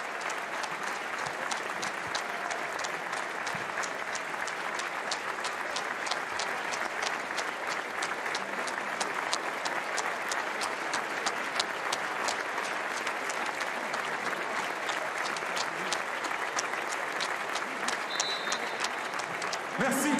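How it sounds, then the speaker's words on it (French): A stadium crowd at a Coupe de France final between PSG and Saint-Étienne holds a minute of applause for Covid victims, sustained distant clapping from thousands that fills the whole stretch, with a commentator talking faintly over it. "Et la minute d'applaudissement pour toutes les victimes du Covid et pour tous ceux et celles qui étaient au front ces derniers mois."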